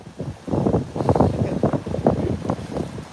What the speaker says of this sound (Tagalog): Medyo malakas yung hangin dito.